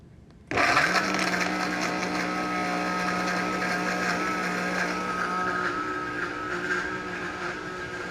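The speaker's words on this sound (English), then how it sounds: "you're not getting the sound of the blender going too much here" A blender whirs through frozen raspberries for raspberry nice cream, kicking on loudly after a brief quiet moment and running as a steady, close, grinding motor drone with no talk.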